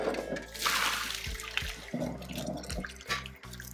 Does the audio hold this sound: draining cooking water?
yes